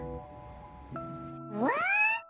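A pet cat lets out one close, rising meow near the end, following a quieter stretch of steady tones, with no one talking.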